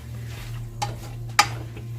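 Food browning in a frying pan while being stirred, with a steady low sizzle under two sharp clinks of a utensil against the pan; no one speaks.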